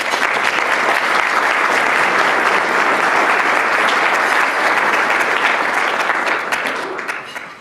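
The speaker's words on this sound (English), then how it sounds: "Please help me in giving each and every one of these organizations and individuals a round of applause." Sustained audience applause at an award recognition luncheon, a dense steady wash of clapping hands lasting several seconds before tapering slightly at the end, with faint murmurs from the crowd.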